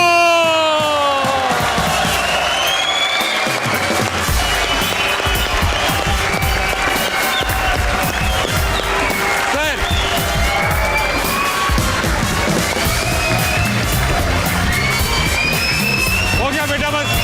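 A studio audience at a TV comedy show roars with loud, continuous cheering, whoops and applause to welcome a legendary singer on stage. The dense crowd noise stays intense for the whole stretch.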